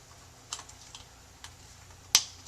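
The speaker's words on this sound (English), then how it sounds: "And now we're going to throw in the" A Dell XPS laptop keyboard is fitted into place during a slot-drive CD-ROM replacement: a handful of light plastic clicks and taps, ending in one sharp, louder snap near the end.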